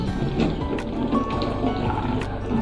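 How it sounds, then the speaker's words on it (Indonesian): Water runs steadily from a tap over hands being wetted for handwashing, a close, continuous splashing rush with small drips and trickles throughout. "kita nyalakan keran air dan basahi tangan"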